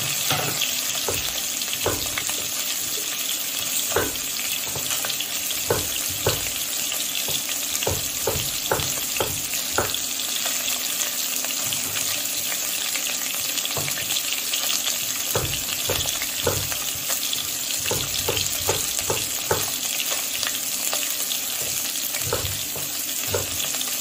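A fillet of sole fries in a pan, giving a continuous close sizzle with scattered crackles and light stirring or clinking throughout, and no talking.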